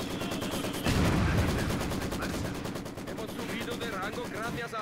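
Machine gun fire from Company of Heroes 2 rattles in rapid bursts among other battle noise, with a heavier blast near the start and a voice talking over much of it.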